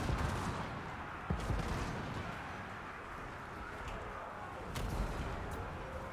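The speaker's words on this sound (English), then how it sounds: "the Hellblaster volley gun is just continuing to melt away that Gracier of Plague" A Hellblaster volley gun fires in the battle video game Total War: Warhammer II. Distant booming artillery blasts rumble under a dense, continuous battle din.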